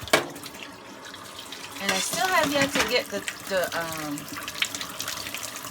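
Kitchen tap running water into the sink, a constant splashing hiss that carries on beneath a person talking.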